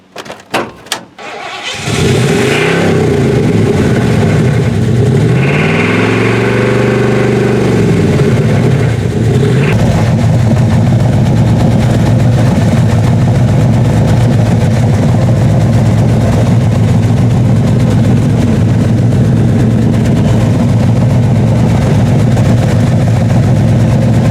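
A 1985 Ford Bronco's 351 5.8-liter V8 cranks briefly, catches and revs once, then settles into a steady, loud, close idle that runs unbroken to the end with no talk.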